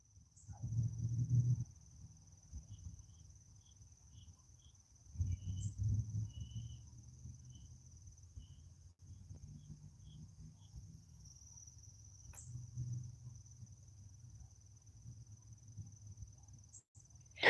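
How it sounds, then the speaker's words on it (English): Crickets chirp in a thin, steady, continuous high drone outdoors near a fountain, with low rumbling bursts of wind or water noise rising and falling underneath. "you're the only one who can actually hear the compression of the crickets"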